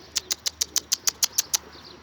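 Young pigeons, about twenty days old, flapping their wings in flight, a steady series of about ten sharp, crisp wingbeat claps at an even rhythm, close and alone before fading out.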